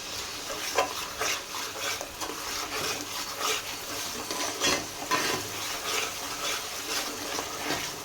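Onion paste sizzles in hot oil for a mutton bones curry, a steady bubbling hiss with repeated stirring scrapes of a spoon against the pan, close and continuous.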